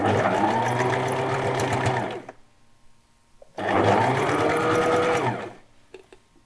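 Sewing machine stitching fabric runs in two steady bursts of about two seconds each, separated by a quiet pause, with a continuous whirring hum close to the microphone.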